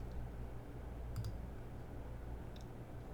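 A computer mouse clicks twice while browsing for and choosing a photo to upload in software. The clicks are faint and well spaced, set against a steady low background hum.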